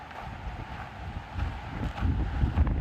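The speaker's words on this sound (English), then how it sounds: "the wind starts kicking up." Wind blows steadily outdoors on the Pacific Crest Trail as the sun gets low, a soft low rushing that swells and grows stronger toward the end, with no voices.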